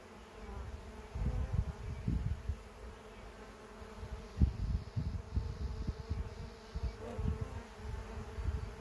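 Honeybees hum in an open hive during a check for laying queens, a steady close buzz with low rumbling thumps and swells as frames are handled.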